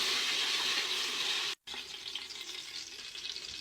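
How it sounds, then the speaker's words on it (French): Chili peppers frying in oil inside a couscoussier, a steady close broadband sizzle that drops out for a split second midway, then resumes with the same crackling hiss. "Je fais frire les piments."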